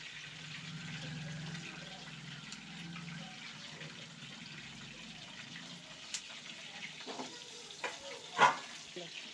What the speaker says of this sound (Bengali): এইভাবে আমি সব মাংসগুলিকে ভেজে নিচ্ছি।